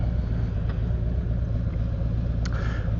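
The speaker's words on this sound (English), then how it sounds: "Oh, a little moped." A small moped engine drones steadily and loudly throughout, with a low rumbling hum and a brief higher whine near the end.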